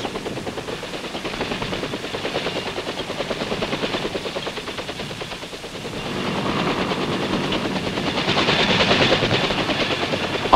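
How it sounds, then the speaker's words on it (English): Armed military helicopters flying with troop-carrying helicopters during a 1966 combat operation, a dense continuous rotor roar mixed with rapid bursts of machine-gun fire that swell louder toward the end. "Armed helicopters traveling with the troop-carrying helicopters disrupt enemy defenses"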